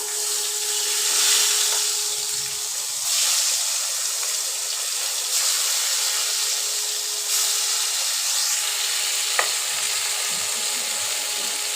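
Tomato drops into hot oil in a kadai already used for frying rohu fish, potatoes and pointed gourd, and it sizzles as a steady, close, bright hiss with no one speaking.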